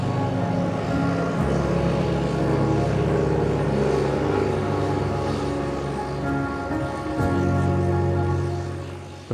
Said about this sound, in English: You might also be lucky enough to see flying boats or float planes taking off and landing.